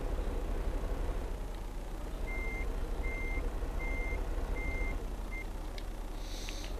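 A truck reversing in the Farming Simulator 2015 video game, sounding five evenly spaced electronic backup beeps over a steady low engine rumble, with a brief clatter near the end.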